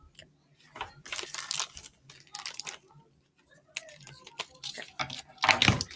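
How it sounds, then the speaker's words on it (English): Blind bag packaging of Little Green Men figures being ripped open by hand, with several bursts of crinkly tearing and crunching plastic separated by short pauses, close and fairly loud. "You gotta rip it all the way across."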